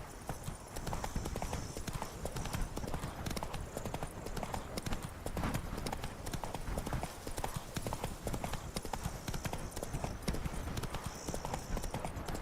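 Horse galloping in the video game The Witcher 3: Wild Hunt – Blood and Wine, a dense continuous drumming of hooves with rushing noise throughout, fairly steady in loudness, with faint voice traces possible underneath.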